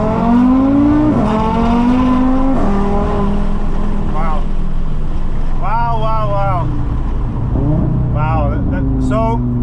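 An Audi RS3 fitted with billet engine mounts accelerates hard at full throttle on an open road in Mexico. Loud engine note climbs steadily in pitch and drops sharply at each gear shift, running continuously throughout.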